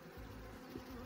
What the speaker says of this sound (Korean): 먹이가 매우 부족할 때라 먹잇감을 보면 꿀벌들이 그야말로 환장하며 달라붙습니다.